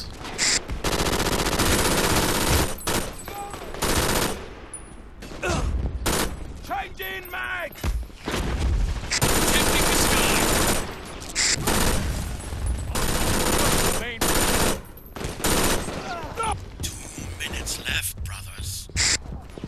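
Rapid gunfire from the shooter video game Brink rattles loud and close in dense bursts, with short gaps between volleys and game noise throughout.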